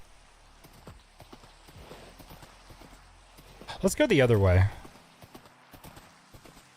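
Horse hooves clip-clop in Minecraft, a short burst near the end with a brief whinny, while someone talks over the game sounds.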